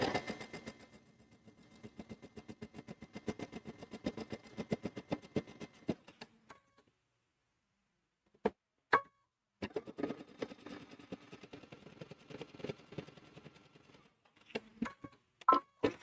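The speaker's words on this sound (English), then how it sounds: "go ahead and start stitching" A sewing machine stitches fabric beside a zipper on a zipper bag, running in steady rapid bursts, stopping, then resuming with a few single clunks between runs, close and fairly loud.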